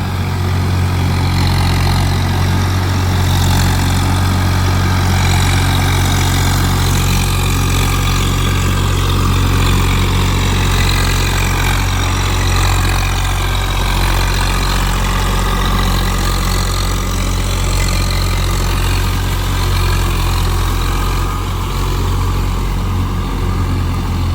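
A Swaraj 744 FE 4x4 tractor engine runs unloaded at about 1800 rpm, working in mud. The loud, close diesel drone stays steady and unbroken throughout, with no speech over it.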